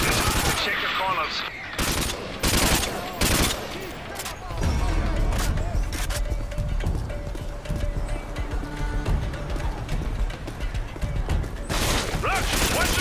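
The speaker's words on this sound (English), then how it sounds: "Roach, we're taking heavy fire from the militia here." Bursts of machine gun fire from a militia firefight in Modern Warfare 2, loud and repeated in short sharp volleys, with battle noise in between.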